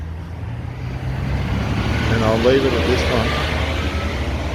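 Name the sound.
road traffic noise with passing truck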